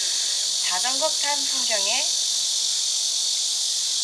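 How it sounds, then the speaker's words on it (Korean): Cicadas drone steadily outdoors at an evening forest concert, a loud continuous high buzz throughout, with someone speaking briefly over it. "지금은 매미 소리가 그렇게 거슬리지 않아요"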